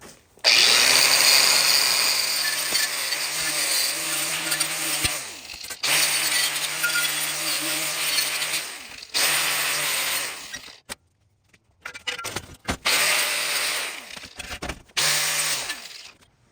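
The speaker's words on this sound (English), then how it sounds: "I like to just put a wire wheel and an angle grinder" An angle grinder fitted with a wire wheel scours the welds on a metal rocket stove, whining loudly in long sustained passes broken by short pauses and a few choppy bursts near the end.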